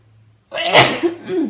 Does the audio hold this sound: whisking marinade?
no